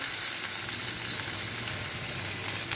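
Onions and green chilies with curry leaves, mint and cloves sizzle in hot oil in a pan, a steady, bright crackling hiss that stays even and close throughout, with no talking.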